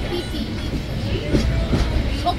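Kanchan Kanya Express rolling from Sealdah toward Siliguri, a continuous low rumble with soft clickety-clack from the wheels, heard from inside the carriage at moderate loudness.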